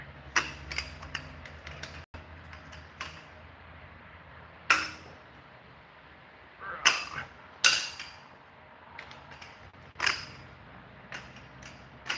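A jack handle levering a torque wrench to loosen engine bolts on a blown 455 engine, with scattered metallic clicks, creaks and ratcheting clanks at irregular intervals over a low, quiet background.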